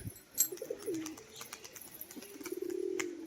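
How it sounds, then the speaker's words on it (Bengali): A white tumbler pigeon coos in low, soft bursts close by, with a few brief sharper calls and faint background birds around it. "এই যে দেখুন, আওয়াজ দেখুন বাজির।"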